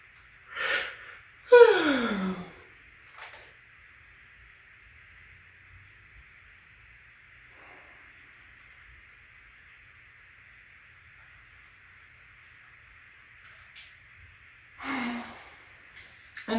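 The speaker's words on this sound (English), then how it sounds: "Let's go ahead and let's take 3 deep breaths." Slow deep breaths during a guided meditation: a loud inhale near the start, a fainter breath after, a long quiet stretch, then another inhale near the end, close and alone.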